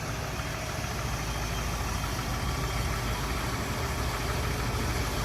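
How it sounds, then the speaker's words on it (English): A 1990 and a 1991 Ford LTD Crown Victoria idle in a garage while warming up on a winter day, making a steady, close, unbroken low rumble with no talking. "Well, the fleet is warming up."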